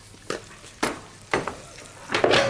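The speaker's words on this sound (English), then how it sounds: "I'm frying off the onions" Onions fry with spices in a pan, with a few bursts of sizzle and scraping as they are stirred, close and clear with no talking.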